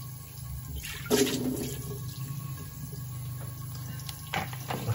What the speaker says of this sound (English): Gonna get a little bit of warm water.